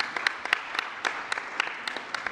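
Scattered, fairly sparse applause from a small assembly at a plenary session, individual claps audible in an uneven rhythm, moderately distant and faint.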